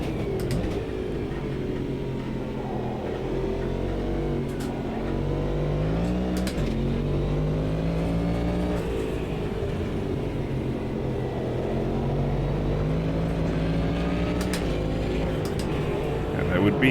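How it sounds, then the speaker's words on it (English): Big V8 engine of a DPI prototype race car in the Automobilista 2 racing game, droning steadily from an external view with rising and falling revs through gear changes, continuous and fairly loud for the whole stretch. "love the sound of that external on the DPI. Such a cool noise, that big V8 roaring"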